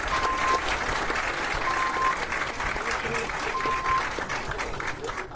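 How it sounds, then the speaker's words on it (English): Sustained audience applause fills a TV quiz show studio, many hands clapping in a dense, even roar that holds steady at close range. "another round of applause"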